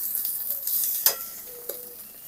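Spice paste of garlic, ginger and cumin sautéing in a pan, a soft continuous sizzle with spatula scrapes and one sharper stir clack near the middle.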